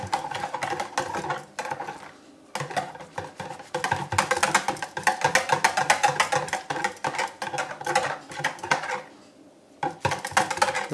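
A homemade dish soap mixture in hot water is stirred briskly in a container, giving a dense, steady run of clinking and scraping with brief pauses near the start and toward the end.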